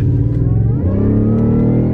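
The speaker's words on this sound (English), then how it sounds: "it's still an amazingly cool truck because it's got a V8 in" Ford Raptor pickup truck's V8 engine running loud and close, a steady throaty rumble with a brief rev swell partway through, no talk.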